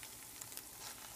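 Frozen scrapple sizzles steadily in a frying pan, a soft continuous crackle with a few small pops, close and fairly quiet, with no talking.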